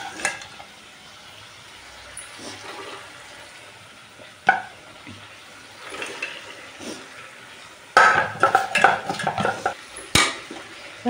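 Potatoes being added to onions and chilli frying in oil in a home kitchen, with soft sizzling, a spoon stirring and scraping against the pan, and louder clattering bursts of utensils toward the end.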